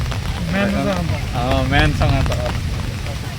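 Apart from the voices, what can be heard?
heavy rain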